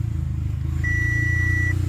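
An Audi A4 project car, parked for five years and now running with no brakes or power steering, idles with a steady low engine rumble while a long, even warning beep sounds over it.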